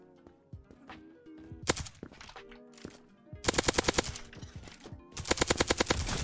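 Auto pistol fire in the video game Krunker.io comes in loud rapid bursts, with short volleys and two longer strings of shots between quieter game noises.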